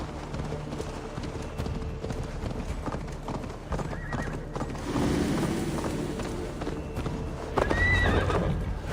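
A horse in Assassin's Creed Valhalla gallops with a steady, rapid clip-clop of hooves and lets out two loud whinnies, heard alone over the game's ambient outdoor soundscape.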